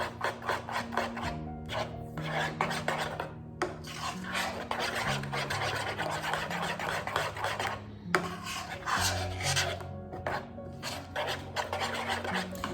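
Chia seeds, light and dark, being stirred into overnight oats in a bowl: a steady close-up scraping and rasping of a spoon against the dish, in continuous strokes with a few brief pauses, with no talking.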